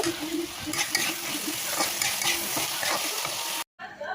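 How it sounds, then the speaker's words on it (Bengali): Hakka noodles are stirred in a hot pan with soy, chili and tomato sauce, giving close, scraping strokes over a constant sizzle for a few seconds before an abrupt cut. "এখানে আমি দেব soya sauce, chilli sauce, tomato sauce দিয়ে আবার একটু নেড়ে চেড়ে নেব।"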